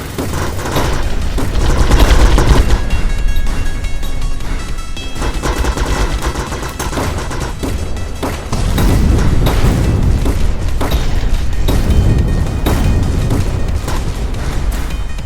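Rapid gunshots and explosive blasts as mines are shot in a video game, loud and dense, with bursts overlapping into a near-continuous barrage of booms and cracks.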